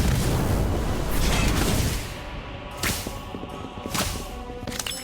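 A fire spell cast in the Harry Potter: Magic Awakened video game, heard as a loud roaring whoosh at the start that gives way to several sharp bursting cracks and booms, with no talking.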